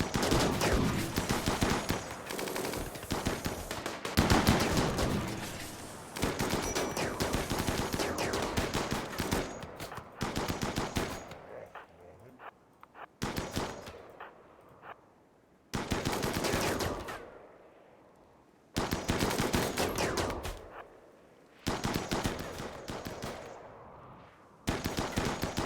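Bursts of automatic gunfire from a RimWorld firefight, loud rapid volleys in several separate strings with short gaps of quiet between them, no talking.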